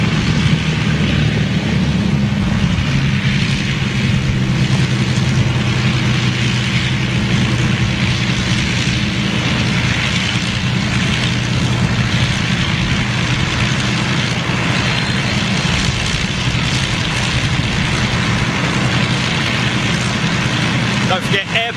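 Avro Lancaster bomber piston engines running during start-up and taxi, a dense continuous droning roar with a low throbbing hum, loud and close for the whole stretch.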